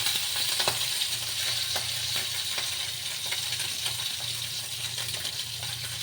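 Tangra and borali fish fry together in a pan over low heat, giving a steady close hiss of oil with scattered small spatters and occasional scraping clicks throughout.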